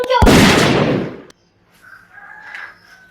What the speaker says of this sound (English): Suddenly, a loud bang was heard. Blood is spreading everywhere. They shot her.